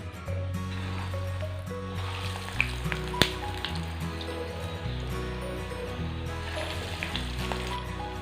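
Banana bread balls frying in hot oil give off a steady, continuous sizzle, with a low humming tone running underneath throughout.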